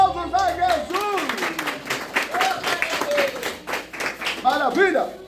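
A church congregation applauds during a Sunday service in Girau do Ponciano, Alagoas, with clapping mixed under a singing or speaking voice and crowd murmur throughout.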